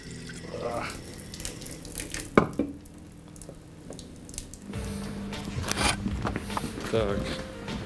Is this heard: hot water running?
yes